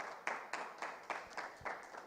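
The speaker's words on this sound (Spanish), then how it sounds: "vamos a dar un fuerte aplauso" An audience at a university lecture event claps in a steady, rhythmic beat, several distinct slaps at regular intervals, fairly faint and distant, with no voices over it.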